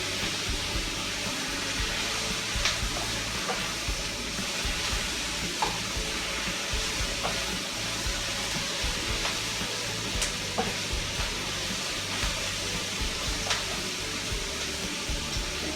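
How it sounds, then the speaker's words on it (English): Onions frying in a pan make a constant, even sizzle with small crackles and pops scattered through it, with no talking. "I love to smell onions cooking, frying."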